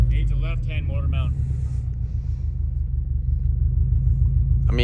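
A Subaru WRX STI turbo engine with a downpipe idles with a steady low rumble throughout, with a voice talking briefly over it at the start.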